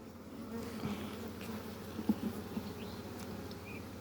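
Honeybees hum steadily around an open hive during a frame inspection, a dense, continuous low buzz with a few louder bees passing close.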